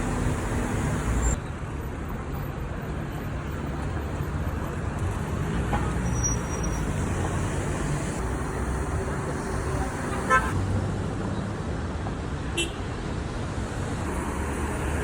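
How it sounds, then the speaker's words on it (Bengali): A bus pulls up amid steady street traffic in Qatar at dusk, engines rumbling continuously with a few short horn toots, while people talk nearby. "এখানে আমাদের বাস চলে আসছে"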